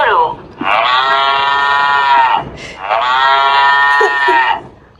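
Two long, loud cow moos from a children's talking book, each held for about two seconds with a short pause between, sounding clear and close, like a recording.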